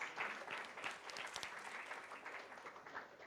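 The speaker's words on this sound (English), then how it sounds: "can we have a round of applause?" An audience at an evening innovation awards ceremony gives a brief, even round of clapping, heard at a modest level for a few seconds with no voices over it.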